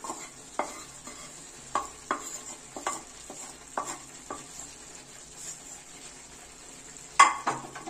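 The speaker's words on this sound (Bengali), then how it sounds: "এবার আমাদের ভেজে রাখা বেবিকর্নগুলো আর মাশরুমগুলো এর সাথে অ্যাড করে দিচ্ছি" Baby corn, mushrooms and mixed vegetables stir-fried in a wok for a garlic sauce dish, with a soft steady sizzle and a series of sharp scraping and clanking strokes of the spatula, close and clear, with no talking.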